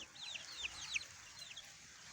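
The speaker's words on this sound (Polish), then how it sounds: "A tu jest mój dziadek kogut Feniks" An old rooster in a farmyard giving a few quiet clucks and chirpy calls in short bursts, faint and close, with no talk.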